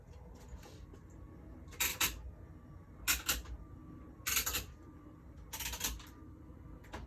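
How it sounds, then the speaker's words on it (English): Card stock running through a manual die cutting machine, four loud creaking, crunching bursts of roughly half a second each, spaced about a second apart over a low steady background hum. "I'm going to go run this through my die cutting machine"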